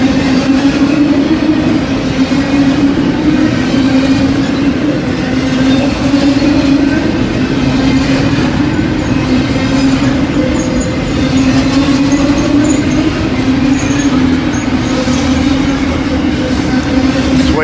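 Train rolling steadily along a passing siding with one locomotive, a continuous loud rumble and clatter of wagons with a steady droning hum throughout, no talk.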